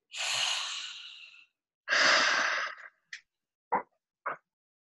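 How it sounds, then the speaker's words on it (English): A slow, deep breath drawn in and let out in a long audible exhale, followed by a short pause and a few brief sharp breath sounds, all close and quiet with no talking. "Let's do it again. 1, 2, 3. Inhale. Hold it. Release."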